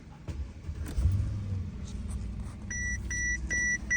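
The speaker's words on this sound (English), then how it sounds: "So I'm gonna turn the car back on." A Mercedes-Benz car is started again after its key battery is replaced: the engine rumbles to life up close, followed by a repeating series of short electronic chimes from the dashboard.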